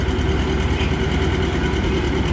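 A 1953 John Deere R tractor engine runs steadily at a tractor pull, a loud, continuous low diesel drone with a pulsing vibration and no talk over it.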